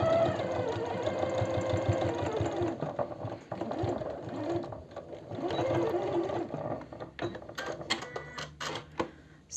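A sewing machine stitches the neckline of a longsleeve made from elastic fabric, running in a steady, close, rhythmic whir. Near the end it breaks into short, choppy bursts.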